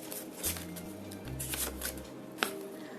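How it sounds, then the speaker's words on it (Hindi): A few short bursts of shuffling paper cards, close and quiet, with soft flutters and a sharp flick near the end. "सो ये शफल नहीं हो रहे because these are papers, obviously these are not cards"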